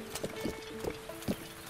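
Horse in Zelda: Breath of the Wild walking: several distinct hoof clops at an uneven, unhurried pace, close and moderately quiet over a faint steady background tone.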